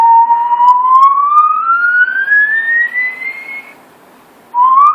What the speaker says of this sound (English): So I'll just whistle.